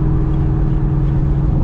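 A Mustang GT with full straight-pipe exhaust and long-tube headers cruising at light throttle gives a loud, steady low drone heard from inside the car, with no voices.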